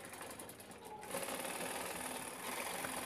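Sewing machine stitching a belt onto a fabric tiffin bag, running in a fast continuous rattle that pauses briefly near the start, then resumes steadily and close up.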